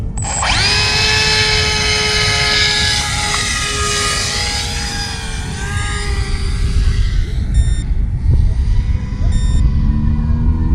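A steady high-pitched whine from an RC plane's electric motor fills the recording, with short electronic beeps from a faulty ESC chiming a few times near the end.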